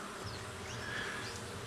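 Stingless Melipona bees buzz while vibrating on cabeludinha flowers, a faint, close, wavering hum with a brief higher whine rising in the middle.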